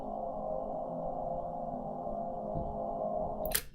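Ambient synth pad in FL Studio layered as a deep underlay beneath a sample, a sustained soft drone holding steady, then a brief bright swish near the end.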